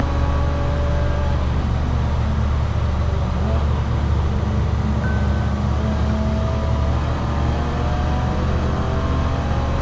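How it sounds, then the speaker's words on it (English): An air compressor runs steadily inside a shop, a constant droning hum that holds at an even level for the whole stretch with no pauses, and no one speaks over it. "The air compressor's going off."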